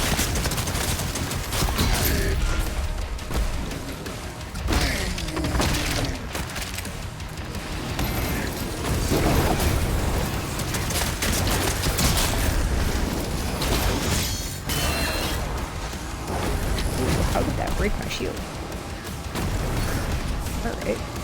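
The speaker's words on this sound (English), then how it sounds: "It crushes up skulls. It uses skulls as ammunition. And it crushes them up and uses the shards as projectiles. It is a machine gun / shotgun." A skull-crushing machine gun/shotgun in Doom: The Dark Ages fires dense, continuous loud blasts for about twenty seconds. It sounds like a heavy barrage of fire and explosions, with brief dips in between, and a voice talks over parts of it.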